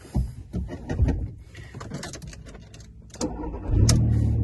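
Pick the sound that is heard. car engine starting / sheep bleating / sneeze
car engine starting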